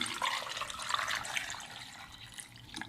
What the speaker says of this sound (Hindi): इसके साथ हम डाल देंगे कुछ पानी,